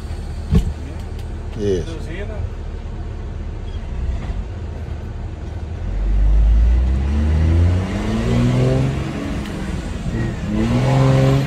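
A car accelerating with engine revving rising from about six seconds during a driving lesson, low and steady, under an instructor's voice talking throughout.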